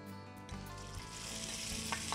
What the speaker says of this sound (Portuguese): um pouco de bacon cortado em cubos, que a gente vai colocar aqui na panela para dourar